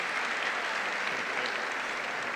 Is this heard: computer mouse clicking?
no